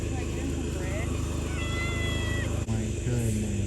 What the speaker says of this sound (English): Come here, kitty, kitty, kitty, kitty, kitty.